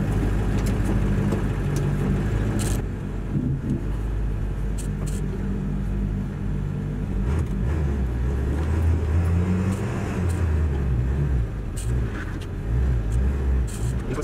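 Truck driving into woods to salvage ash slabs, its engine rumbling steadily and close, rising and falling as it moves over rough ground, with occasional knocks and clunks.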